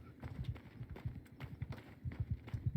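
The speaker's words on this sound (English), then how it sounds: "I hear a horse." Horse hooves clop in a rapid, uneven galloping rhythm in the medieval combat game Mount & Blade II Bannerlord, fairly close and steady throughout with no talk over them.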